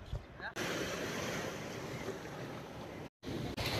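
Surf at Kovalam beach roars continuously in a broad, loud wash, with strong wind buffeting the microphone and a brief dropout near the end.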